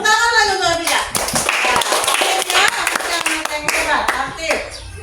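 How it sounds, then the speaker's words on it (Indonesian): Children and a teacher clap together in a classroom, bursts of hand claps running loud and close through the whole stretch with voices mixed in. "Tepuk tangan lagi untuk dia."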